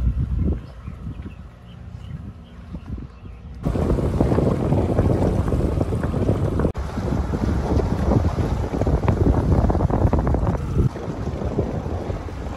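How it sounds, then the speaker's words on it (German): A small dinghy motors back toward an anchored sailboat in the Exumas, with a steady outboard drone mixed with heavy wind buffeting and splashing water, loud and continuous after a quieter start. "bevor ich dann wieder mit dem Dinghy zurück zu meinem Boot gefahren bin"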